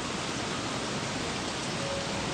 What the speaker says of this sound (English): It's so sad when it rains.